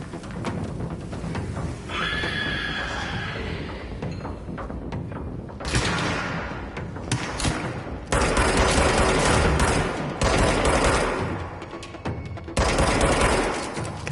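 Bursts of rapid gunfire from the video game Control erupt in several loud, dense volleys separated by short pauses, mixed with thumps and game effects, with no talking.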